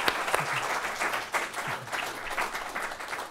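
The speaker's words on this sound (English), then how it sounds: "let's have a round of applause for Henrik and Grace." An audience at an entrepreneurship talk claps in sustained, steady applause, fairly near and even throughout, with no talking over it.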